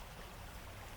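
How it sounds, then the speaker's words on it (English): A river running through a forest valley, its steady rushing wash filling the air in a continuous, even flow with no voices. "Running water."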